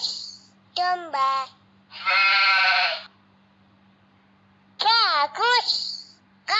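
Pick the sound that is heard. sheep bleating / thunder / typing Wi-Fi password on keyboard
sheep bleating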